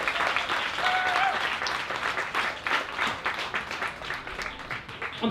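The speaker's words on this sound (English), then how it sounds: "Yes, clap for yourselves. Please clap for yourselves." Audience at a Write About Now poetry event applauding themselves, a warm sustained round of clapping with scattered cheers, moderately distant and gradually thinning.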